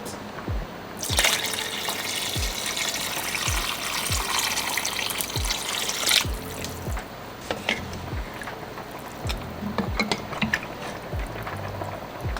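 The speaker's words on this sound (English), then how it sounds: "And about 2 to 4 cups of water, just so we could fill it above the meat." Water pours into a pot of beef neck bones for a stew, a steady close rushing splash running for several seconds, with scattered clicks and clunks of handling throughout and no talk.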